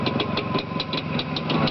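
A powerful motorcycle engine runs at a steady idle, close and loud, with an even rapid pulsing throb and no voices over it.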